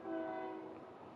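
A passing train sounding its horn, a sustained steady horn tone over a low rumble that fades off gradually, heard from a distance with no one talking.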